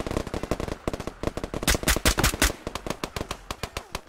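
Gunfire in the video game Operation: Harsh Doorstop comes as loud, rapid bursts of automatic shots, dense in the middle and thinning toward the end, close and sharp with no voices.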